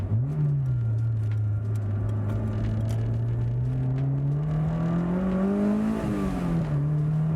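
A Honda S2000 engine rises steadily in pitch while driving, a loud, sustained whir that climbs, dips briefly and climbs again, heard from inside the car.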